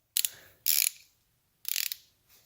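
Ratchet clicking in three quick bursts as a long extension loosens the 10 mm oil pan bolts underneath a Porsche 944, with near, sharp metallic ticks and short pauses between turns.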